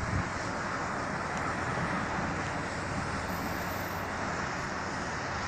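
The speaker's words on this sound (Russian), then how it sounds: "Так, друзья, еще один натовский вертолет." A NATO Bell V-22 Osprey tiltrotor flying over Odesa, heard as a steady, broad roar of rotor and engine noise mixed with wind, constant and fairly loud throughout with no voices.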